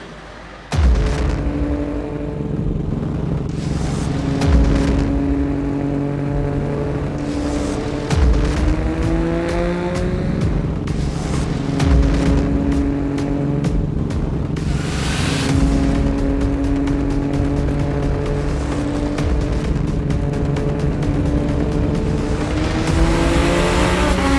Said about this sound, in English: Unfortunately, we got a bit of wheel spin here at the 326 wheel kilowatt mark.